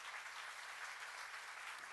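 A church congregation gathered for a Psalms sermon claps together, producing a continuous, even patter of applause that stays soft and distant throughout.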